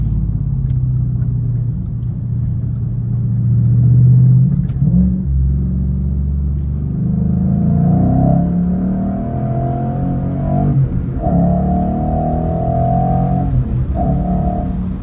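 A high-mileage Mustang GT 5.0 V8 rumbles low and steady, then revs up with a deeper, throaty growl that rises and falls several times.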